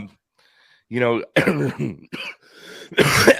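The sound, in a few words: coughing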